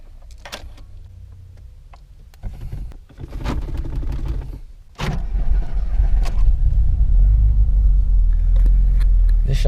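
A car sits running while it warms up, a low engine rumble building and then holding steady and loud after a couple of clunks and a brief power-window whir, close up with no talking.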